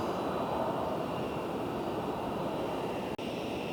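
A Boeing 737 MAX 8 jet taxis at Phoenix airport with a steady, moderately distant engine whine and broad roar held at an even level throughout, briefly broken by one short click near the end.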